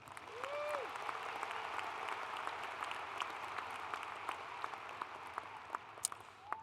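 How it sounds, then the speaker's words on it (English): An audience at a spring 2019 commencement ceremony applauds graduates with a sustained, dense wash of many hands clapping, heard from a distance and fairly soft, with no one speaking over it. "Can I get a round of applause for them"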